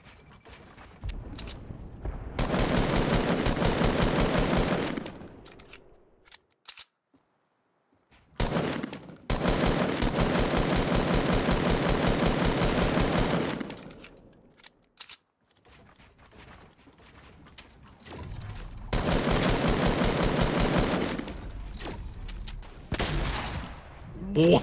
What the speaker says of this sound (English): I heard other shots like in the background east.